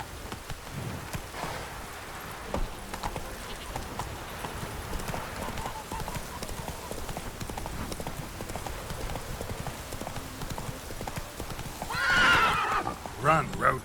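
Horse in The Witcher 3 video game gallops with steady clip-clop hoofbeats over rainy ambience, then gives a loud whinny near the end; a voice speaks briefly.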